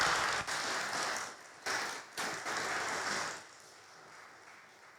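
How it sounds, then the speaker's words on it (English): An audience applauding after a lecture on Henry Vaughan's poetry, a dense wash of clapping from a crowd heard from a little distance, pausing briefly twice before fading away to quiet after about three seconds. "Let's give Dr. Smid another round of applause."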